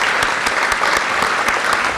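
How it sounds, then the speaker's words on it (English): Steady round of applause from a luncheon audience in Charleston, thanking a speaker: close, dense clapping from many people, even and sustained throughout the short stretch with no talk over it. "if we could give him a round of applause"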